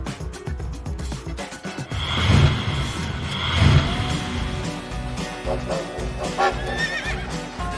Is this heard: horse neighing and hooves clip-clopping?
yes